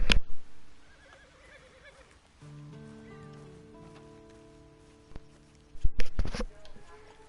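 A scrawny nag of a horse in Red Dead Online whinnies amid in-game ambience, with sharp loud bursts at the start and again near the end around a stretch of musical tones.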